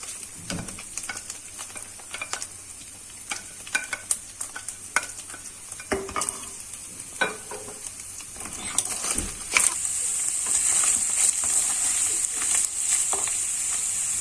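Two onions and a green pepper dropped into browned minced meat in a pan, close sizzling with frequent spoon scrapes and clinks, the frying hiss growing louder and steadier toward the end.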